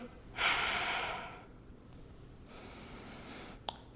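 Breath training in a resistance workout: one strong, close breath rushes out for about a second, then a softer, longer breath follows, with no one speaking.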